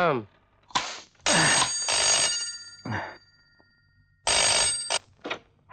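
A telephone rings in bursts of electronic tones between short gaps, loud and close, alternating with people talking.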